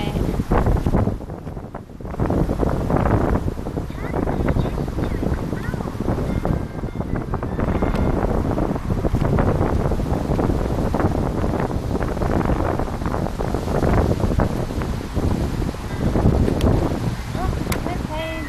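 Strong wind buffeting a microphone on a walk to the shops, a steady loud roar throughout with gusty surges, while people talk over it.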